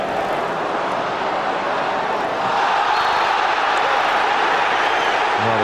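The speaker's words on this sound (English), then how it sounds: "Well, the crowd now are very much roaring." A football stadium crowd roaring during a Manchester United versus Arsenal match, a dense continuous wall of noise that stays loud and steady throughout, swelling slightly toward the end.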